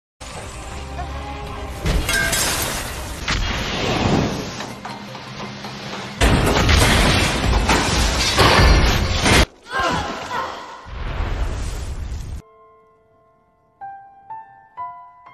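A machine self-destructs in the kung fu film Tai Chi Zero: a loud, sustained burst of shattering, crashing and smashing debris for about twelve seconds. It ends abruptly, leaving a faint ringing tonal tail.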